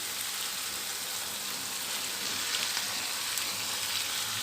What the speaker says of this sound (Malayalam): ഇനി ഇതിലേക്ക് നമുക്ക് പനീർ ഇട്ട് കൊടുക്കാം